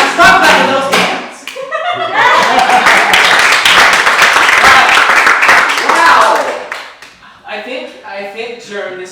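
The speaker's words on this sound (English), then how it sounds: "Yeah, clap, clap, clap, clap, clap, clap." An audience clapping hands at a cultural show, loud and continuous for several seconds, with voices talking and cheering over and around the claps before it trails off into speech.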